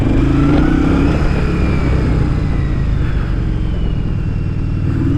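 A 1982 Yamaha Virago motorcycle that sat unused for a long time and may need a carb tune runs with a steady, loud, close rumbling engine note, holding constant without talk.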